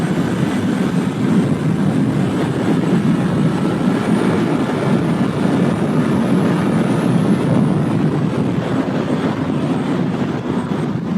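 Steady, loud roaring wind blast over a 2015 Kawasaki Z800 naked motorcycle's engine drone while riding at speed, continuous and close throughout with no talk.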